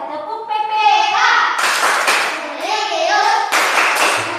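Schoolchildren in a classroom chant a rhythmic clapping routine, their voices rising in sung syllables punctuated by sharp bursts of unison hand claps.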